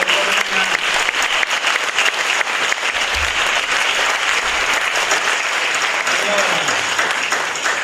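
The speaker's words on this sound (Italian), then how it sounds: "Lo ringraziamo con un applauso." Audience applause at a music event, sustained and dense, with many hands clapping evenly throughout, a few low sounds underneath and no clear talk.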